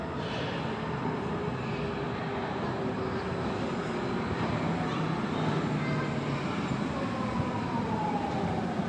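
A DT-1 subway train bound for Langwasser Süd rolls into a station on track 2, a steady rumbling roar with rising and falling whine, moderately loud and continuous throughout.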